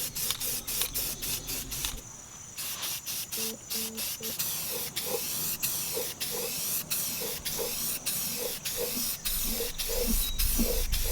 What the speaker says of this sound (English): I'm painting this thing like a gunmetal gray.